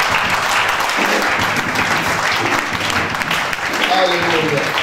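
A church congregation claps and cheers steadily for about five seconds, a dense, loud wash of applause filling the room.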